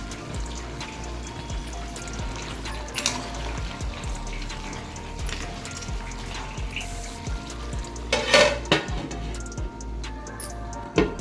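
Crab curry with roasted coriander and cumin powder bubbles in a pot, a steady wet simmer of small pops and gurgles running throughout, with a few louder bursts near the end.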